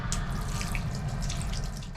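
Water tap running into a small sink in the toilet of a new Hungarian premium-class train carriage, a steady close splashing stream over the low rumble of the moving train, with no talking.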